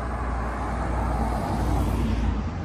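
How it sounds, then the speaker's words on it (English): Cars pass nearby on a village road in the Peak District, making a steady, close broadband rumble of tyres and engines with no talking. "More cars than usual."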